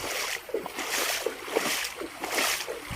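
Water flows down through a rice paddy field in Roi Et during the rainy season, a close rushing, sloshing splash that swells and eases in uneven surges.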